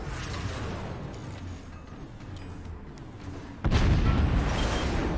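A howitzer fires in the strategy game Forts, a sudden heavy boom that cuts into low ambient rumble and leaves a loud, sustained roar behind it.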